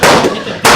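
Two loud gunshots boom close together at a shooting range, sharp blasts under a second apart with a short ringing tail between them.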